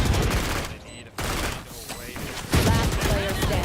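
Gunfire in a collegiate esports shooter match between Arizona State and Boise State, with bursts of rapid shots and impacts under loud game audio, a brief quieter gap partway through, then dense firing again.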